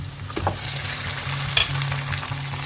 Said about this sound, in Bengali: পেঁয়াজটা মাংসটা ভালো করে মিশিয়ে নেবো নিয়ে ভালো করে ফ্রাই করতে হবে